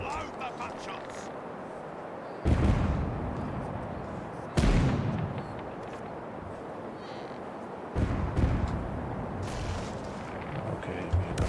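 Broadside cannon fire from a sailing ship in the naval game Caribbean Legend: heavy booming volleys burst out at intervals over a constant rumble of sea and battle ambience, loud and close.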